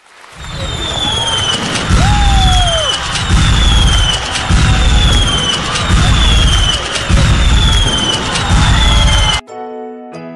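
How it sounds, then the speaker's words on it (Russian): Birthday fireworks go off in steady, rhythmic booms with whistling rockets and crackling bursts, loud and continuous before cutting off abruptly. "А сейчас наслаждайтесь салютом."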